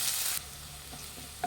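Finely chopped onions, two medium ones, fry in oil with a bright hiss at first that quickly drops to a faint, low sizzle, punctuated near the end by a brief stir.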